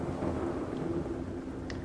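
Steady rain in a survival video game, a continuous broadband wash with a faint low rumble beneath it, no voices.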